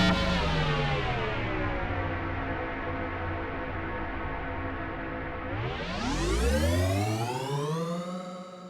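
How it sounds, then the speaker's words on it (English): A dense, washed-out Erica Synths Syntrx II synthesizer chord hangs in a long reverberant tail, then swoops upward in pitch near the end while staying thick and spacious. "A nice reverb as well."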